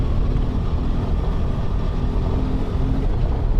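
A BMW F 450 GS motorcycle ridden fast on a gravel road, a loud continuous engine drone blended with tyre crunch and rumble, steady throughout with no talk.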